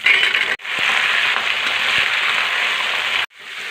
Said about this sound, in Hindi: ये लहसुन भी फ्राई हो गया, अब डालूँगी बैगन